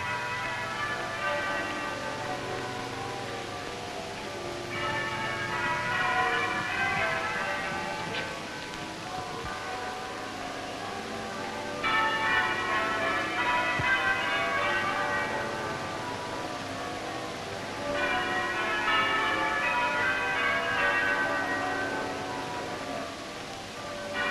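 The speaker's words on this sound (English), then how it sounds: "while the bells of Westminster toll their sorrowful greeting" Westminster church bells toll slowly in repeated peals at a royal funeral procession for King George, ringing loud and resonant over a steady background hiss.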